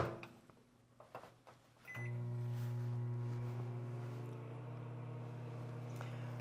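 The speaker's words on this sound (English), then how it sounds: "now we're going to microwave this until it all melts" After some quiet clicks and handling, a microwave oven door shuts, a beep sounds, and a steady low electric hum starts and runs continuously as candy ingredients melt inside.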